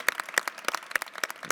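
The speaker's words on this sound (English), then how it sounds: "I think we probably do need to give a round of applause to Jason Perry and his team for their great work." A small audience at a University of Utah event gives a brief round of applause, a handful of distinct, close hand claps in an uneven rhythm.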